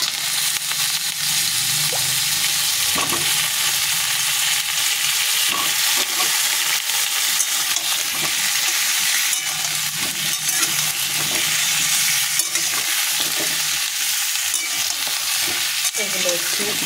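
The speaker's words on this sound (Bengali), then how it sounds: "এগুলো নাড়তে নাড়তেই এর ওপরে দিয়ে দেবো পেঁপে" Papaya and potato chunks are stirred and fried in a pan, giving a steady close sizzle broken by repeated scraping stirs throughout, with no talking.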